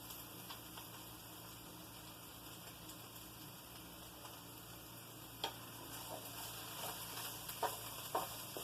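Vegetables with garlic powder sautéing for an eggplant stew, a faint, even frying hiss with a few soft clicks and taps near the end, no voices.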